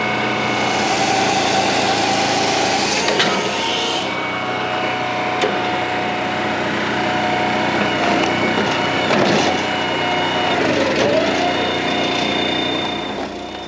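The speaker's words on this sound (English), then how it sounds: "some really big stuff that's pretty much maxing this firewood processor out" A firewood processor pushed near its limit on very large logs, its engine droning steadily and loudly throughout with intermittent woody cracks and knocks from the splitting.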